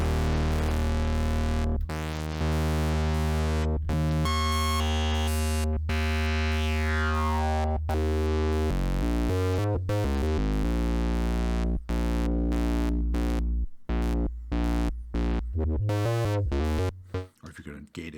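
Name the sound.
Sequential Pro 3 synthesizer sequence with filter opening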